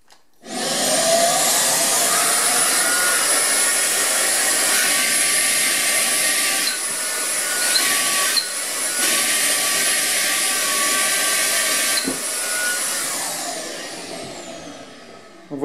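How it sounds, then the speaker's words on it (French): A Rockstar 500 cordless vacuum cleaner running at maximum speed, a loud, steady high-pitched whine and rushing airflow held for the whole stretch, with brief dips as the nozzle shifts around. "qu'est-ce que ça donne avec le 500 vitesse maximum?"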